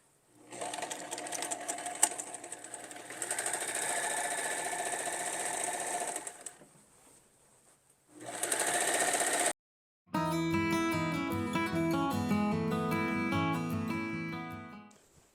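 A sewing machine stitching three layers of fabric together in fast, steady, close bursts of needle chatter, pausing briefly between runs; the final stretch is covered by music.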